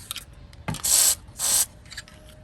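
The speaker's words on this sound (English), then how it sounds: "We're gonna spray this with some penetrant." Penetrant lubricant sprayed from a can onto the headlight motor parts of a 1982-86 Pontiac Firebird Trans Am: two short, close hissing bursts separated by a brief pause, with no talking.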